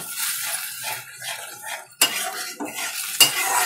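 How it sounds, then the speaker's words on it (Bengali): A metal utensil stirs and scrapes spices in a pan over a medium flame. The soft sizzling carries short scrapes, with a few sharp clinks of utensil against pan near the end. "মশলাটা ভালো করে মিশিয়ে 2-3 মিনিট এইভাবে নাড়াচাড়া করে"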